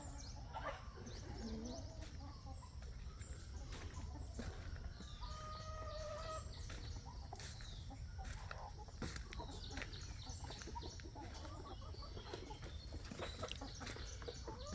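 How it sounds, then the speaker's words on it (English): About twenty hens clucking softly in a coop, scattered calls over a steady low background hum, no talking. "that is our chicken coop. Some 20 hens we have kept for eggs"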